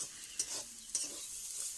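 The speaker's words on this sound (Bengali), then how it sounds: "এখন আলু উচ্ছে ভাজা হচ্ছে" Potato and bitter gourd frying in a pan over a wood fire in a home kitchen: a soft, continuous sizzle with a couple of brief stirring scrapes, close but quiet.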